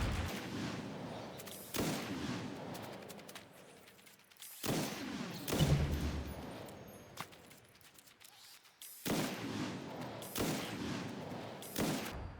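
Gunfire from shooting enemies in the Fallout 76 video game, a dense run of repeated game gunshots in clusters of bursts across the whole stretch, loud and without talk.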